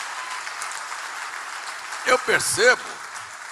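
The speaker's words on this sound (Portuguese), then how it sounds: "eu convidaria você a aplaudir ao Senhor Jesus" A church congregation applauds during a worship service, giving a steady wash of clapping while a voice speaks briefly over it.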